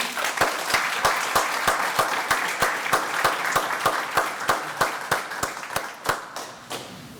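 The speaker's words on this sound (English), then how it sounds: "Let's give everybody a round of applause." An audience claps steadily at a venture pitch showcase, with dense continuous applause and strong, regular individual claps nearby, all fading slightly toward the end.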